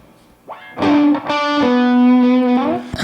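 A played synth note run through a Kurzweil rack unit set to reverb only, giving a sustained tone that shifts pitch a few times and rings out with a wash of reverb, loud and alone.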